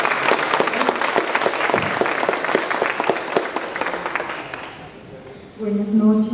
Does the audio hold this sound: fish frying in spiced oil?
no